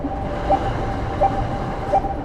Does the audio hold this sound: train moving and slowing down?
yes